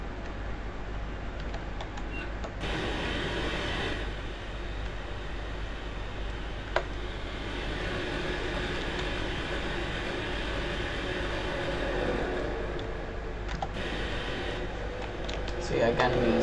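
A Class 91 electric locomotive runs with its nameplate fitted on a York to Kings Cross service in Train Simulator 2018, giving a steady rumbling drone with cab ambience and faint clicks, and a person talks over it.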